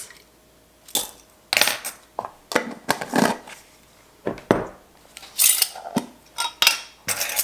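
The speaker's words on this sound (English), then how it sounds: "I've got 1 large cinnamon stick here that I'm just going to break into some pieces" A large whole cinnamon stick is snapped by hand into pieces, giving a string of sharp, dry cracks and crunches in irregular bursts, close and crisp, with no talking.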